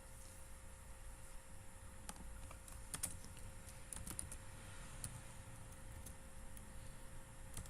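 Quiet computer keyboard keys pressed in a few scattered light clicks, as for a Ctrl+F shortcut, over a soft steady background hum.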